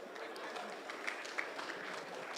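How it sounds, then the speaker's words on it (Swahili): Audience applause at a public security forum in Migori Town, a brief, fairly quiet spell of scattered clapping from a crowd. "Mpigieni makofi"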